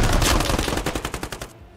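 Rapid automatic gunfire in the video game Squad, a close, loud burst of about a dozen sharp shots in quick succession, tapering slightly before cutting off.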